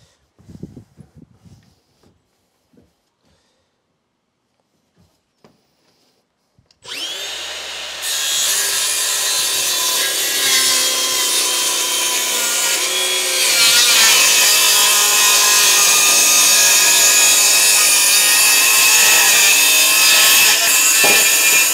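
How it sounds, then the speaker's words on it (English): Steady, continuous abrasive rasping of sanding on a wooden cupboard door clad in cedar, starting after a few quiet seconds of small knocks and growing slightly louder partway through. "Sanding over that just to clean that up. Take any burrs off that door."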